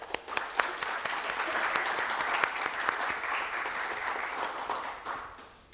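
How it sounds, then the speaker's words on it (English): Audience at a youth speech competition final applauding returning judges, a steady, moderately distant wash of many hands clapping with a few sharper individual claps standing out, holding evenly before tapering slightly. "Let's hear a round of applause for returning judges."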